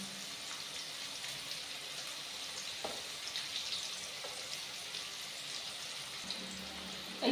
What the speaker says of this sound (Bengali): এইভাবে চিপে সব পুরো জলটা সোয়াবিন থেকে বার করে ফেলবেন।